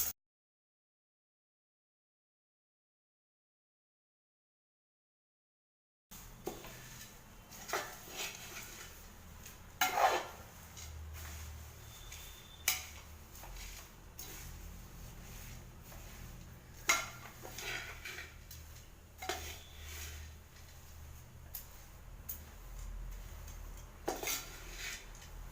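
Flattened rice mixed with roasted gram being stirred in a pan, with repeated clinks and scrapes of a metal utensil against the pan, steady and close, after several seconds of silence.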